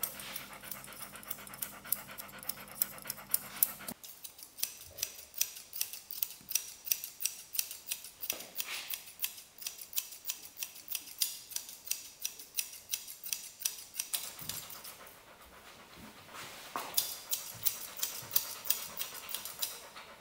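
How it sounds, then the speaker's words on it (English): Scissors snip at a Bouvier des Flandres coat during show grooming, giving a steady run of close, crisp clicking cuts that continue for the whole stretch, with the dog's occasional panting in the background. "you've cut out the points to style the dog"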